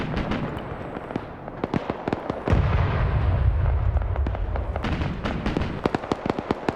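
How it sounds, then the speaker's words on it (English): A BMP armored vehicle's cannon fires in a video game battle, producing rapid sharp bursts and cracks that come in irregular volleys, with a dense, rumbling stretch of sustained fire in the middle. "I'm hearing the BMP firing off."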